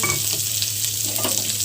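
Bone-in chicken pieces frying in a pot for soup, a loud close sizzle with quick scraping stirs and light clatter running throughout.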